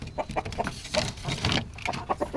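Heritage black BPR chickens cluck softly and close by in a run of short, irregular bursts, some overlapping, with no talk over them.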